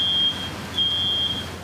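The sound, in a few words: smoke alarms beeping in hurricane-wrecked homes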